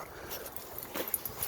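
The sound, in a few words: dogs whimpering, blue heeler mix and basset hound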